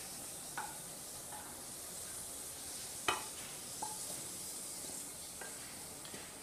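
Cashew nuts and raisins fry in a pan with a steady, quiet sizzle, punctuated by a few sharp clicks and scrapes as they are stirred and lifted out.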